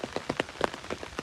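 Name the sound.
heavy rain falling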